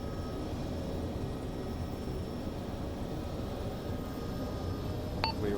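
A military helicopter of the 160th SOAR makes a landing approach near a helipad, its engine and rotor roar forming a dense, steady, loud wash throughout, with a brief electronic tone near the end.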